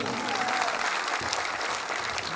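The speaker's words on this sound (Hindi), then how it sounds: "अपील करना कि जोरदार तालियां" Loud, sustained applause from a large student audience at a college alumni reunion and spring cultural festival in Multan, steady clapping filling the whole stretch with a faint murmur of crowd underneath.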